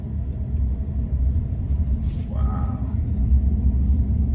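A Tesla Cybertruck drives and turns, heard from inside as a steady low rumble of road and motor noise, with a faint rising whine in the middle of the turn.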